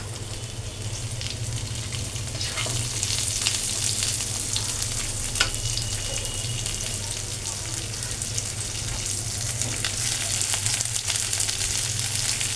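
Thinly sliced pumpkin and bitter gourd with three green chillies frying in hot oil, a steady, close sizzle with occasional crackles and a low background hum throughout.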